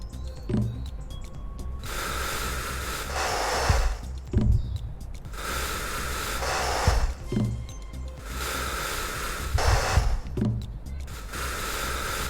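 An injured man in a countryside rescue video game breathes in slow, regular cycles, each rasping breath a breathy hiss about every two to three seconds, close and prominent.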